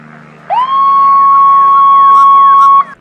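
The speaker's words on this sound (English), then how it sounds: "a siren sounded an alarm." A loud electronic border-sensor alarm siren starts abruptly and holds a steady wailing tone with a repeating warble for a couple of seconds, then cuts off.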